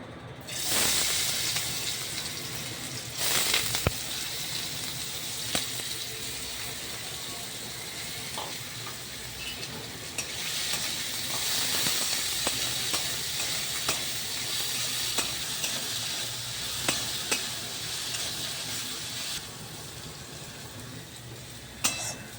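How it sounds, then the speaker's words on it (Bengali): Potatoes sizzle in hot oil in a pan, a steady loud hissing fry that carries on throughout with slight swells and a few sharp ticks, with no talking. "তেল গরম হয়ে গেছে, এবার আমি আলুটা ছেড়ে দেবো।"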